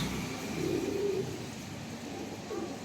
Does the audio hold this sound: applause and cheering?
no